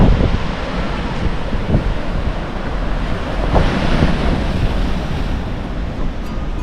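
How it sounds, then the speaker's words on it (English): Intense ocean waves crash on a beach in Madeira, Portugal, in rough weather, a loud continuous roar of surf with wind buffeting the microphone and swelling surges, no voices. "these waves are very intense here"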